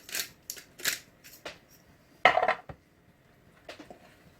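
Risotto stirred in a pan, heard as a series of sharp, close scraping and clinking strokes of a utensil against the pan, separated by short quiet gaps.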